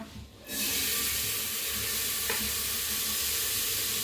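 Sliced onion goes into hot oil for chana bhatura and sets off a sudden, loud hiss that holds as a strong, constant sizzle after a brief quiet start.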